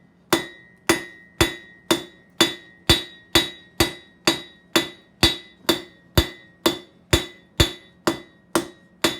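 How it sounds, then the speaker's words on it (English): A hammer strikes hot metal on an anvil while a decorative rose is forged, giving about eighteen sharp ringing blows at a steady, even rhythm, close and loud with a metallic ring after each hit. "I try to move the work around different areas of the anvil"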